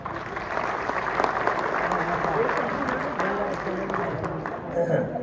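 An audience at an Urdu mushaira in Doha, Qatar applauds in a sustained, close burst of clapping that fills the hall evenly, with faint voices mixed in underneath.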